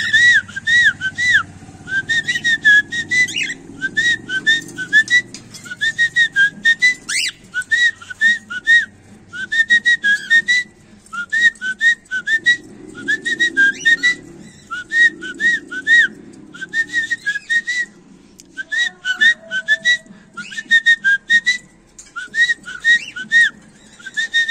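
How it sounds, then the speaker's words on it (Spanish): Pet cockatiels whistle repeated bright, rising phrases in steady bursts over about twenty-five seconds, close and clear, with faint rustling and chatter from the birds between phrases. "ahí están mis ninfas haciendo su gracia, moviéndose para que las esté grabando"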